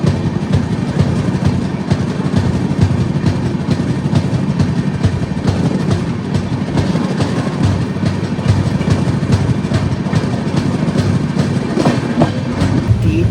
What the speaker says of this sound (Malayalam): നമ്മുടെ വണ്ടി ഇപ്പോൾ 130 എടുത്തോണ്ടിരിക്കുകയാണ്